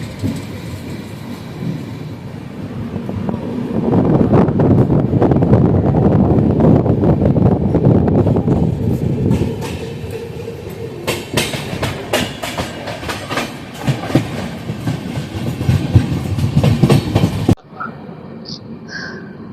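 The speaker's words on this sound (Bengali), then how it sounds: "বর্ধমান স্টেশন ছেড়ে দিল সরাইঘাট এক্সপ্রেস।" Saraighat Express rolling out of Bardhaman station, a steady loud rumble of wheels on rails with rhythmic clickety-clack and wind buffeting the microphone, building then easing before cutting off near the end.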